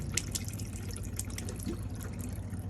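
Hot water runs steadily from a motorhome sink tap with the water pump on, a continuous rushing flow with small drips and splashes and no coughing or sputtering.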